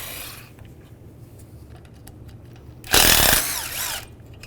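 A tool fitted with a T30 socket backs out an A/C condenser bolt on a 1998-2010 Volkswagen Beetle: quiet shop noise, then one loud, close whirring burst lasting about a second, tapering off.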